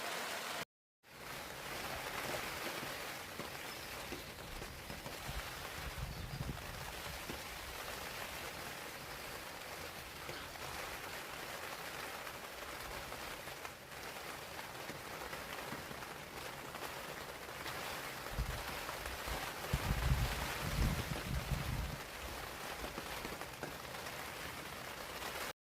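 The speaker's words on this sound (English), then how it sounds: "The rain is driving in from the front here and the wind." Steady rain hisses against a camping tarp, with wind driving gusts in from the front and occasional heavier low flaps and rumbles near the end.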